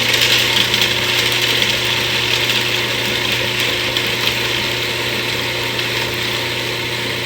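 A food processor whirs steadily while blending fresh homemade pesto, a constant motor drone with a bright whine, loud and close, running without pause and with no talk over it.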